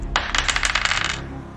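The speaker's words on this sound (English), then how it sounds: "I've got 5 8-sided dice now, but I'll still need to roll in 2 batches." A handful of five eight-sided dice clatter and rattle across a hard surface in a quick burst of clicks, close and fairly loud, then settle into silence.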